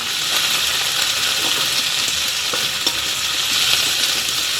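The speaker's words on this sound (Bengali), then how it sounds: "পেঁয়াজ ভেজে নেব।" Onions frying in oil for a biryani, a steady dense sizzle throughout with faint scraping of stirring, close and fairly loud.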